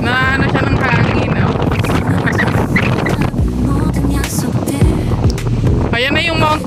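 Strong, cold wind roars and buffets steadily near Camarines Sur, with people talking and calling out over the constant rush throughout.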